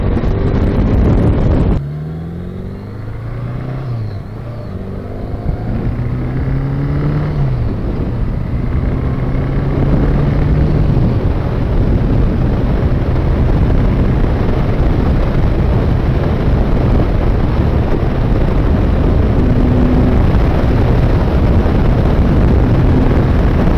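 A 1981 Honda Goldwing GL1100 on a country ride, its engine droning close and loud with rising revs and several gear shifts early on, then settling into a steady cruising hum under heavy wind rush.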